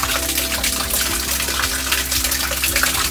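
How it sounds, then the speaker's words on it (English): A tiny waterfall at an abandoned Japanese temple pours in a loud, steady rush and splash, close by and heard alone. "you would go underneath this waterfall, this tiny little waterfall to pray."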